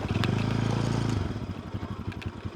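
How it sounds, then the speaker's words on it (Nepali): A motorcycle engine roars close by in Lo Manthang, Mustang, Nepal, holding a steady note before dropping into a rougher, pulsing idle as it pulls away. "केटाहरूले पुरै बाइक कुदाइरहेको थियो यसमा पो रहेछ त यार"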